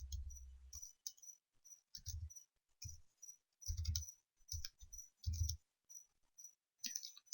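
Someone types a server IP address on a computer keyboard, with light, close key clicks in short irregular clusters and small gaps between them.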